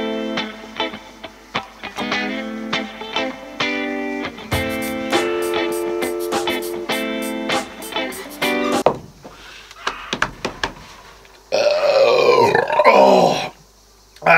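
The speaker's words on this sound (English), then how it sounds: "That burp came out quite strained." A person makes a series of strained, voiced burping and grunting sounds after drinking an American IPA beer, with short bursts, pauses and a harsher, noisier stretch near the end.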